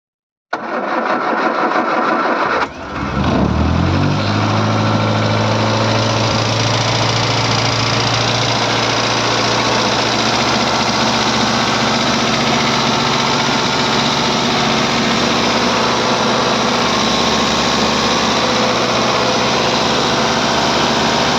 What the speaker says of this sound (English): Right, I'm going to see if it starts then.